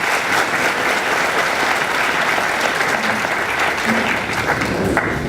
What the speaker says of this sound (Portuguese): Salva de palmas para o nosso governador do Estado de Rondônia.